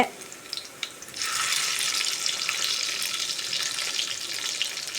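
Garlic frying in a pan for chutney as tomatoes are added: a loud, steady hiss of sizzling swells up after a few small knocks and carries on evenly.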